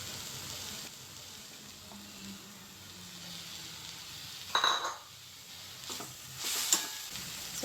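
Spinach leaves tossed into a pan of frying jackfruit seeds: a steady soft sizzle under faint kitchen hiss, broken by a couple of brief louder rustling bursts as the leaves hit the hot oil.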